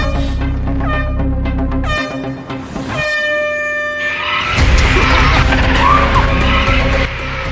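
A Tesla Cybertruck races an 800-horsepower Rivian, heard as played-back footage: loud sustained horn tones, then a shift into skidding tires and rushing vehicle noise that swells toward the end, with no speech.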